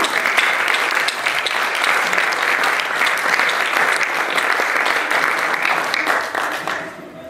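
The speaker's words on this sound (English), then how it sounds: "I think you all deserve a round of applause" An audience at a Spurs Malaysia supporters' event with Gary Mabbutt breaks into loud, sustained applause. The dense clapping carries on steadily for several seconds before fading out at the end.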